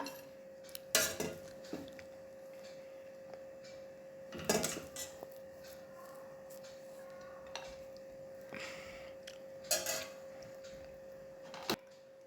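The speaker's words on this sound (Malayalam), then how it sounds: "ആദ്യം നമുക്ക് ചോറിടാം." Ghee rice is served onto a plate with metal utensils, several sharp clinks and scrapes spaced apart over a faint steady hum, close and otherwise quiet.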